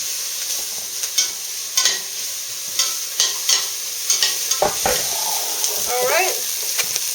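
Onions fry in oil in a pot, a constant close sizzle broken by repeated scraping stirs and clicks of a utensil, with some brief faint sounds from someone nearby.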